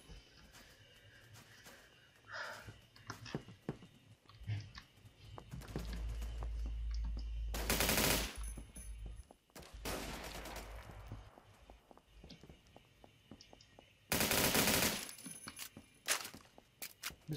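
An L22 rifle firing in the shooter game Phantom Forces, heard as a few loud, sharp bursts of rapid shots separated by quieter stretches of clicks and movement.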